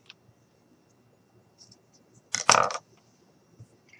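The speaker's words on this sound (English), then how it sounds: "Let's cut that here." Scissors cutting material while making a felt quiet book page, a single brief close snip-and-rustle burst amid near silence, with a few faint ticks around it.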